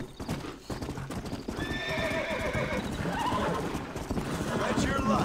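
Horse hooves clip-clop at a gallop with a loud neigh and whinny in Red Dead Redemption, the hoofbeats steady and close throughout while faint voices murmur underneath.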